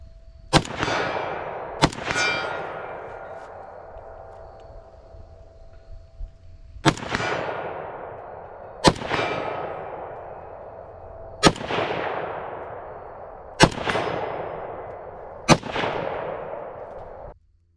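An AK rifle fitted with a Geissele AK-X two-stage trigger fires six loud, sharp shots at an outdoor range, spaced a few seconds apart, each with a long ringing decay.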